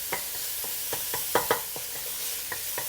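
Chopped meat for a meat sauce fries in a pan with a constant loud sizzle, while the spatula stirs and scrapes in irregular clicks close by.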